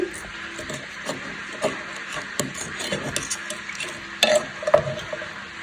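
A fork stirs food in a bowl or pot, where a fish head is being covered, giving soft scraping and clinking strokes that come in irregular bursts at close range, a few sharper taps near the end, with no talking.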